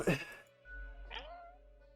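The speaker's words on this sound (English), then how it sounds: "I'm sorry the cat interrupts me." A cat gives a short meow nearby, followed by a quieter drawn-out mew, with a voice talking briefly at the start.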